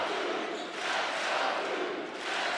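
Basketball arena crowd cheering at a Duke versus UCF college game, a loud sustained roar of many voices swelling and dipping over a few seconds.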